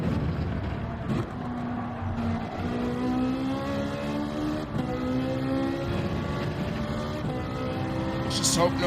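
A Lamborghini's engine in the Gran Turismo 7 racing game roars and revs steadily, its rising and falling pitch sweeping through gear changes, loud and continuous throughout.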